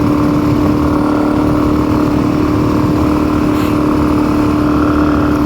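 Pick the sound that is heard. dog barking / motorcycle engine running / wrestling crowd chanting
motorcycle engine running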